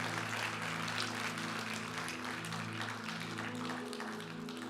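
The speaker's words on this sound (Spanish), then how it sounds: "¿Cree que merece un aplauso el Rey? Déselo, por favor." Audience applause in a church during a sermon. It is a steady, dense wash of clapping that carries on evenly throughout, sounding distant and fairly faint, with a low hum underneath.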